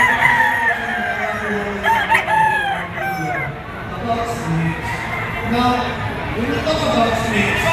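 Boston Roundhead gamefowl roosters of an LDT line crow at a crowded gamefowl expo, several overlapping calls rising over a steady hum of voices and talk throughout.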